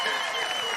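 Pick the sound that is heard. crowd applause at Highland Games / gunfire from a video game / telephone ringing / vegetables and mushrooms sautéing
crowd applause at Highland Games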